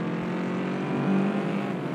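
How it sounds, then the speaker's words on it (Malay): Motorbike engine in a video game, a sustained, even mid-pitched drone that swells slightly in the middle without any talk. "Wih, motor laju"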